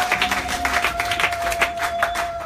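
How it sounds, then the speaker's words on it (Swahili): A church congregation at a Bible study claps together in steady, rapid rhythm, a dense wash of applause at moderate volume with no voices over it. "Tupigie Bwana makofi makubwa. Makofi mengine makubwa."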